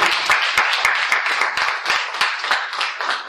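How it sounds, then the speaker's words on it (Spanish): A church congregation bursts into applause during a worship service, with dense, continuous clapping that holds steady at close range for several seconds. "Yo quiero que le den un aplauso al Señor por esto."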